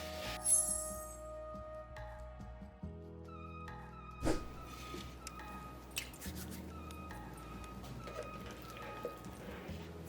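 Sourdough focaccia dough is pulled up and slapped back into a bowl during folds, making a few soft, wet squishes and slaps spread over a quiet stretch, with no voices.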